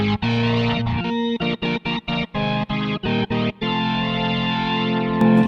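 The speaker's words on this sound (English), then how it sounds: "So if you put the distortion back on," A sustained chord from a restored Hammond XB-1 electric organ with heavy distortion, played in choppy repeated stabs then held, loud and buzzing with no voices.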